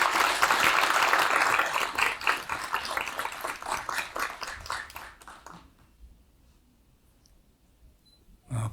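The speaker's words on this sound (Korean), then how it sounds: "여러분 박수 부탁드리겠습니다." Audience applause at the launch ceremony of a national media workers' union leadership, a full clapping burst that thins into scattered claps and fades to near silence by about six seconds, followed by a brief sound at the end.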